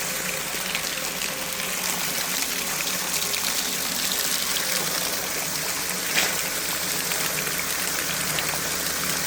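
Water streams and gushes steadily outdoors, a close, full, unbroken flow like a running stream or spout with no pauses.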